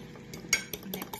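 A single egg whisked in a bowl to coat cod for Whole30 fish and chips, heard as a few quiet, quick taps and scrapes over about a second.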